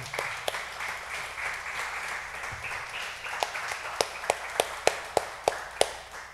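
A church congregation at a São Paulo extension service claps, first as a soft continuous patter of applause, then as a row of sharp, evenly spaced claps that grow louder toward the end.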